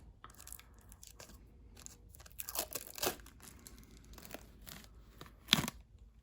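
Protective coating is peeled from a new Precision Matthews PM-25MV benchtop milling machine, giving quiet crinkling and tearing rips with a few sharper pulls, close and otherwise alone.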